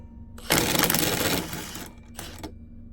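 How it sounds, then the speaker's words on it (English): A ratchet driving Hyper Tough impact sockets, a loud, fast rattling burst of clicks close up for about a second, then a shorter second burst after a brief pause. "That is the ratchets, the sockets being put in action right there."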